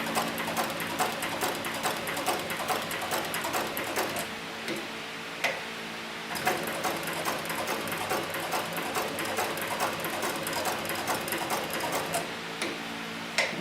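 A sewing machine stitches in steady, rapid mechanical runs with a fine ticking rhythm, pausing briefly around four and six seconds before resuming at the same pace, close and clear with no talk.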